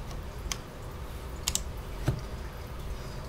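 Keys are pressed on a Cherry MX 10.0N RGB mechanical keyboard with low-profile speed switches, a few soft, scattered clicks close up over a faint background hiss.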